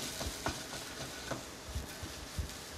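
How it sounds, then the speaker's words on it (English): Hyogo mushrooms getting a very quick sauté in a pan with a pinch of salt, soft sizzling under a few irregular stirring knocks and scrapes, fairly quiet and close. "Very quick saute, hyogo mushrooms."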